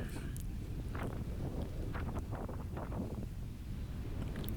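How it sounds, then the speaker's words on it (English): Strong wind buffets the microphone in a continuous low roar at an outdoor baseball game in Iowa, with faint rustling and a sharp knock at the very end. "It is an extraordinarily windy day."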